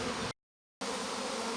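A dense, steady buzz of many honeybees up close as they are shaken from a hive frame, broken by a brief silence before the swarm's drone resumes.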